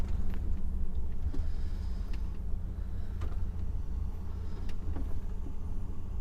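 A car drives along a residential street in West Drayton, London, its steady engine rumble close and continuous throughout with no talk over it.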